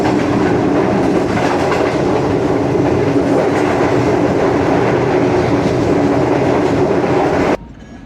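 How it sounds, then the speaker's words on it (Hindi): The Pak Business Express rumbles along the main line on its Lahore to Karachi run, a loud, steady rush of wheels and carriage noise heard from on board. The noise drops off abruptly near the end. "मेन लाइन 1 से अभी गुजर रही है जी ट्रेन हमारी।"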